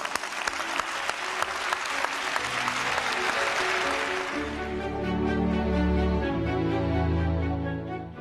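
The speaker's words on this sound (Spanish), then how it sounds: "Un aplauso por él." Audience in the Spanish village of Almonaster la Real applauds warmly, sustained clapping that gives way midway to music playing over it.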